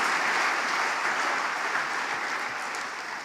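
A church congregation applauding, a loud, dense wash of clapping that fills the room and eases slightly toward the end, with no speech over it.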